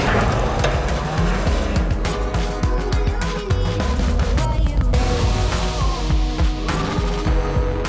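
A front-wheel-drive Toyota Corolla rally car is driven hard on gravel, the engine roaring loud and close while stones rattle and spray against the underbody without a break.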